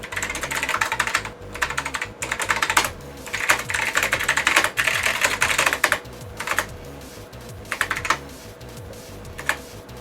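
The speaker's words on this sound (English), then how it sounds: "I cannot make a single typing mistake because the backspace key doesn't work" Steady, fast typing on a PC keyboard connected to an IBM mainframe session on an OS/2 Warp 3 PC, with dense close key clatter and brief pauses between bursts, no talking.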